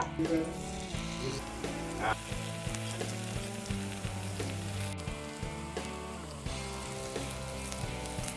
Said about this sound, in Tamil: பணியாரக்கல் நல்ல சூடாக இருக்குது இப்போ நம்ம பணியாரம் சுடலாம்